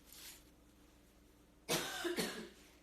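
Two harsh coughs from a man recovering from flu, close together, loud and near, after a brief quiet stretch.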